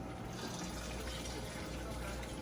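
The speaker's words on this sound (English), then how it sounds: "So adding a little bit of water." Water poured into a pot of sweet potato curry: a steady, close rushing and splashing fill sound, continuous and fairly full throughout.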